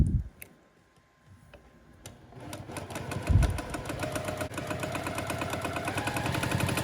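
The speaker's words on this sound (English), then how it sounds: "sew forward, sew backward a little bit to secure it, and then sew all the way across" Sewing machine runs a quilt block seam for a Le Moyne star, starting after a few quiet clicks, then a steady rapid stitching rattle builds and continues close up to the end.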